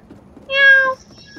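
A single clear, fairly loud cat meow rises out of quiet background noise, about half a second long and close by, with a faint tonal tail just after it.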